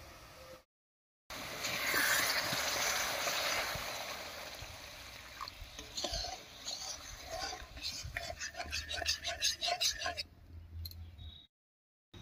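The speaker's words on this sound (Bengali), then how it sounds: "এবারে অল্প একটু জল দেব।" Water poured into spice paste fried in oil for a pabda fish curry, giving a brief splash and sizzle followed by stirring and scraping clatter in the pan, with background noise and some voice.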